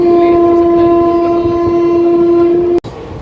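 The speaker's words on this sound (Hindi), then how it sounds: "गोंडा जंक्शन से डिपार्चर लेने के बाद WAG5 लोकोमोटिव ने तो मेरी ओरिजिनल आवाज़ ही दबा दी।" A train hauled by a WAG5 locomotive runs at speed after leaving Gonda Junction, a loud, steady, droning whistle-like tone over rumbling wheels that cuts off sharply near the end.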